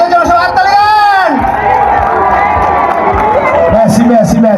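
A crowd of Bangladeshis at a three-day fair in Seychelles cheers and shouts, loud and close, with a lively babble of voices and a brief whistle-like rising cry near the start.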